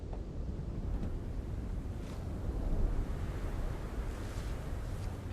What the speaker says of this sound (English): Damn sandstorm's so loud.